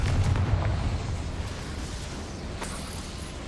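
Explosion from the Confringo fire spell in the Hogwarts Legacy video game, a loud low rumbling blast that fades into a sustained roar with small crackles near the end, no voices.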